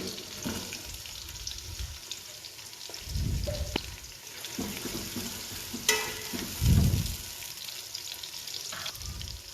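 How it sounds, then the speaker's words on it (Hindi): Roughly chopped vegetables for black chana pulao sizzle in a pan in a village home kitchen, with intermittent stirring scrapes and clatters that come in short, louder bursts. "मैं सब्ज़ियाँ साथ साथ ही कट करके डालती जा रही थी और भूनती जा रही थी"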